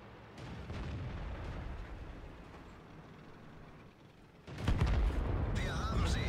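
Tank cannon fire in the World of Tanks game: a heavy booming shot with rumbling tail opens, then a louder, sharper blast hits near the end and rolls on with a deep roar.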